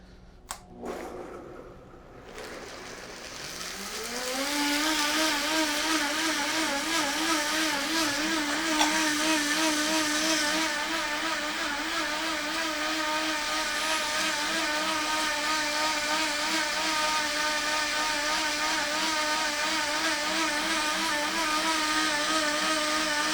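A high-powered blender whirs hot soup for the holiday cooking, starting after a few soft knocks as the lid goes on, then climbing into a loud, steady motor drone that holds for about twenty seconds.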